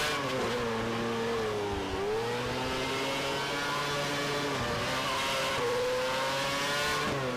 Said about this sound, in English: you want to get the car in, progressive, and then accelerate and get the car out nice